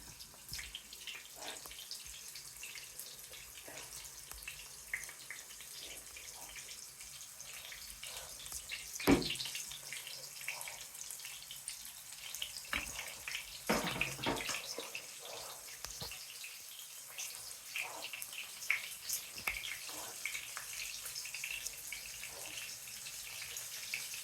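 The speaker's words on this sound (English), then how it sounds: "There they are, shallow frying." Quiet, continuous sizzle and crackle of homemade fish fingers shallow frying in a pan, with occasional louder pops and spits.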